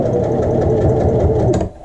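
Sewing machine running steadily, stitching forward and back while understitching along a pocket edge on a child's garment, a close continuous whir that stops abruptly at the end.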